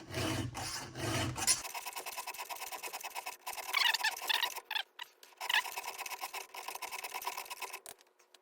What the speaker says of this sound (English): I like the chain tight when I'm filing